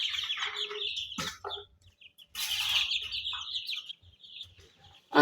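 Chickens kept in two cages cluck and squawk at close range in short bursts separated by brief quiet gaps, ending with a sharp louder call, with no talk.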